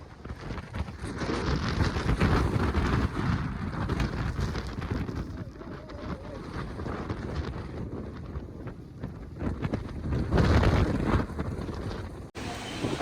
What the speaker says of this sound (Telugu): అసలు ఎంత గాలి వచ్చిందంటే బండి కూడా సైడ్కి నెట్టే అంత గాలి వచ్చింది